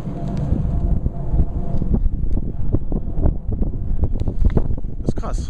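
Strong wind gusting across a snowy road, a constant rough roar battering the microphone with rustling bursts, while people talk over it.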